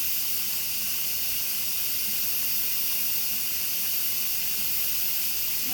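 An Instant Pot pressure cooker making bone broth vents steam in a loud, steady, unbroken hiss that continues alone throughout.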